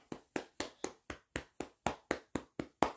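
Eleven or twelve sharp hand claps in a steady, even rhythm, close and clear, each one separate with brief silence between, from a single person rather than a crowd.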